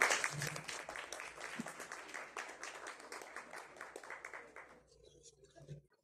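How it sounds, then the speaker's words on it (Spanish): An audience at a book presentation breaks into clapping, a dense applause that fades out over several seconds toward the end. "Fuerte el aplauso para..."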